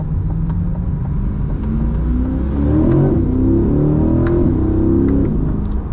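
A Chevrolet C8 Corvette Stingray's engine revs hard in its most aggressive track setting with manual paddle shifting, a loud close rumble rising and falling through several quick gear changes with no talking.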